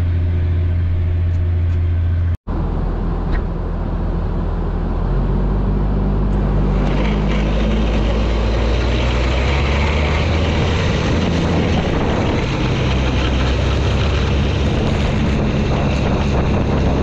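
A Massey Ferguson 8480 tractor runs a snow blower through light powder snow, a loud, constant engine roar and blower rush with wind buffeting the microphone.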